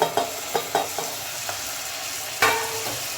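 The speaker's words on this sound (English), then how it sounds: "So after 3 minutes I am adding this tomato." A large tomato being sautéed in a pan for a Bengali-style chicken and potato curry: a constant frying hiss with several sharp spatula scrapes and taps, close by, with no voices.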